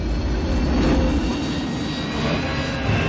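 An airplane cabin fills with a steady, loud engine roar and low rumble during turbulence, continuous without breaks or voices.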